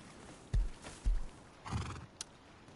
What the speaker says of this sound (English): I have a stable for your horse. All that noise you're making.